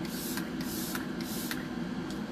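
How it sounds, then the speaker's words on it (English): Short hissing spritzes of makeup setting spray, several quick bursts about half a second apart over a steady background hum, close and moderately loud. "Do about 4 spritz, and that's going to lock my makeup in place"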